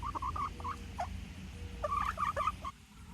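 A Black Copper Marans hen clucks and chatters in short bursts, then after a pause gives a longer run of warbling calls, fairly close with steady background noise.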